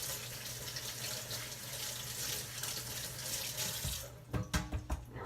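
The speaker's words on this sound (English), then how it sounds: "Wash my hands off." A kitchen faucet runs steadily as hands are rinsed at a sink, a continuous close splashing hiss that gives way near the end to a few louder splashes and clatters.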